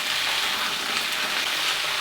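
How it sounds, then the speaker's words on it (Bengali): Cauliflower florets frying in hot oil, a steady close hiss and sizzle with crackling spatter that holds evenly throughout, no voices. "এইবার এই ফুলকপিটাকে আমি কিন্তু হালকা লাল করে একটু ভেজে নেব।"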